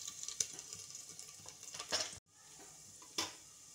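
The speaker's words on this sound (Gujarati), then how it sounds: "હવે લસણ નાખી દઈશું આની અંદર." Garlic dropped into hot oil in a pressure cooker pot sizzles with a steady crackling hiss, broken by a few sharp stirring scrapes and a brief drop in sound partway through.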